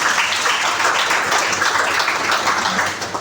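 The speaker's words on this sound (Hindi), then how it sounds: "एक बार जोरदार ताली" Audience applause at an RCM gathering: a dense, steady wash of many hands clapping that holds for a few seconds and then begins to fade at the end.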